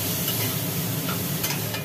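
Potatoes fried and stirred with ground poppy seed paste in a pan, a steady close sizzle with scraping stir sounds and a low hiss throughout.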